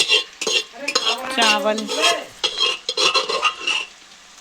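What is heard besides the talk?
onions frying in a pan for fried rice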